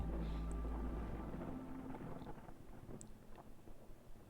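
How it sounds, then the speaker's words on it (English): Wind blows in the video game Against the Storm as a faint, steady low rush with soft gusts and light rattling, heard alone with no voices. "It's kind of windy in here."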